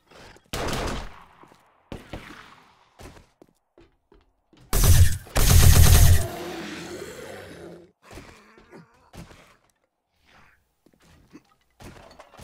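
Bursts of gunfire from the zombie survival game 7 Days to Die, modded Ravenhearst, with a short burst early, then a loud dense volley mid-clip followed by scattered thuds and quieter game noise.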